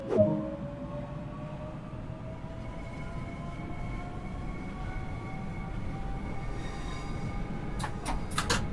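Simulated train running in the video game Train Sim World 2, a steady low rumble with rising tonal whine and a few sharp clicks near the end, with no talk.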